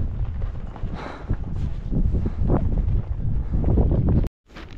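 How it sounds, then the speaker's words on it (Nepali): Strong wind at Everest roars and buffets the microphone continuously, rumbling loud and close, cutting off abruptly near the end before a brief return. "हावा चाहिँ बेसरी चल्दो रहेछ"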